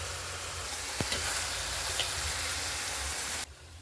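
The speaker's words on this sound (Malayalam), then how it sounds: "ഉള്ളി കാഞ്ഞു വന്ന് ഇതിലേക്ക് മസാല എല്ലാം ചേർത്ത് കൊടുത്തു." Onions and masala sizzle and fry in a pan while chicken biryani is being prepared, a steady loud hiss with a couple of small clinks of stirring before the sound abruptly drops away.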